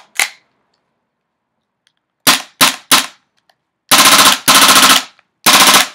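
GHK G5 airsoft pistol firing: a single sharp shot, then three quick separate cracks, then three louder, longer bursts in short succession, close and alone without talk.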